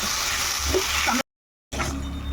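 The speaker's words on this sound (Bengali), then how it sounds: "এখন এটা একটু ভালো করে কষিয়ে" Spices and tomato sautéing in a pan for a Bengali tengra bori curry, giving a steady close sizzle and stir-frying hiss that drops out briefly and then resumes.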